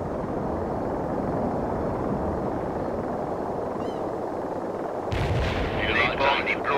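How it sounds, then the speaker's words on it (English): Mortar artillery barrage in the World in Conflict video game: a steady, heavy rumble of distant shelling, then louder, closer booms and crackling blasts near the end. "Mortar barrage is on the way."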